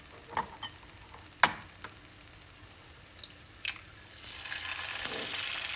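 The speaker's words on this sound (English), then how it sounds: "he's going to do 2 eggs, and he just has a little bit of olive oil in this heated pan" Two eggs go into a little olive oil in a heated pan. A few scattered clicks and taps give way to a soft, steady sizzle that rises partway through and continues quietly to the end.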